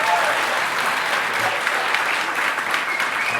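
Steady applause from a wedding crowd honouring the families, a dense, even wash of clapping that holds at the same level from start to finish with no voices rising above it.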